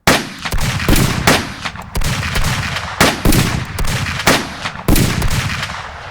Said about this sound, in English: After what sounded like a small war going on, the gunfire stopped